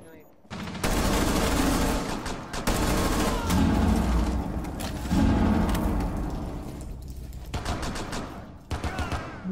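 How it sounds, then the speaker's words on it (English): Sustained bursts of automatic gunfire from a Rainbow Six Siege firefight, loud and continuous with brief pauses, rapid rattling shots overlapping, with players' voices mixed in. "they're all shooting at me"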